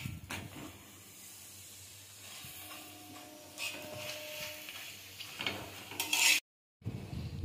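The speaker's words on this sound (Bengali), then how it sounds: "দু পিঠ ভালোভাবে ভাজা হয়ে গেছে, এবার তেল দিয়ে ভেজে নেব।" A paratha fries in oil in a pan, giving a low steady sizzle with occasional clinks of a utensil, a brief louder burst of hiss near the end, then a short silence.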